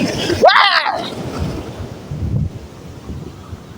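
Strong wind buffeting the microphone out at sea on a fishing trip, a rough roaring gust with a sharp voice-like squeal early, then steady blustery rumble.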